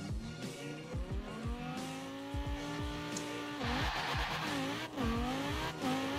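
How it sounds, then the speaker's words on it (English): A Lamborghini Huracan Performante in Forza Horizon 4 accelerates hard through rapid gear shifts, the engine note repeatedly climbing then dropping at each change, loud and steady with no talking. "You can just hear those gears just switch so fast."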